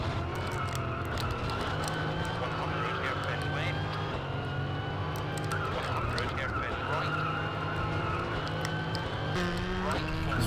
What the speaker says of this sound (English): It's weird though, hearing the car from inside.